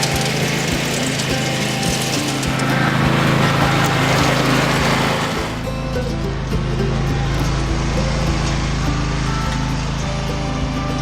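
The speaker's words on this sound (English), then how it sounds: "I'll run the dethatcher over the lawn to give the sweeper something to pick up" A lawn dethatcher runs over the grass with a loud, steady engine drone and raking clatter, its pitch and load shifting partway through as it keeps going without pause.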